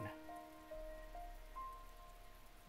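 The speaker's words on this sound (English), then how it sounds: "Our room's silent, except for the intolerable droning of the rain." Rain drones steadily on surfaces in a scene from the video game Fruit of Grisaia, a soft continuous patter with faint tonal background music drifting over it and no voices.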